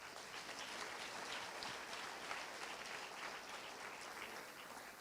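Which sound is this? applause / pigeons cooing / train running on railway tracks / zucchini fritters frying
applause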